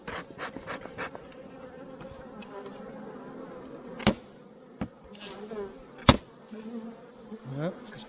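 Honey bees buzzing around a hive super during the honey harvest, a steady close swarm drone with a few sharp knocks and rustles cutting through, little talk.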